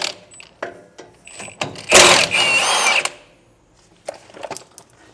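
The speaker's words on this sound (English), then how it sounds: "We're just gonna pop those off with a 9/16 socket." A power tool with a 9/16 socket spins out the bolts holding a trailer's electric brake assembly, giving short mechanical whirring and ratcheting bursts, one longer loud run in the middle, then a few quieter clicks.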